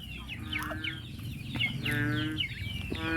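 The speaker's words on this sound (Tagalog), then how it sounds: "nagpapatuyo tong mga alaga natin manok" Backyard chickens drying off after bathing in the first heavy rain cluck and squawk continuously in overlapping calls, close and fairly loud over steady outdoor background noise.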